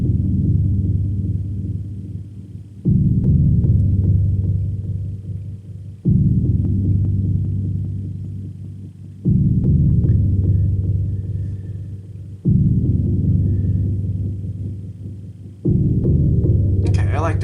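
Sampled sound on a Korg Electribe 2 with a 1/8 delay effect, deep booming hits repeating in a steady pulse about every three seconds, each decaying slowly, loud and with no talking.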